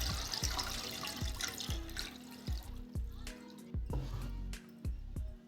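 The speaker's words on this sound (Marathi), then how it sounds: "साबुदाणा आपण दोन पाण्याने स्वच्छ धुवून घेणार आहोत" Sago pearls being washed in water give repeated sloshing, splashing pulses at a close, moderate level, with soft drips between them.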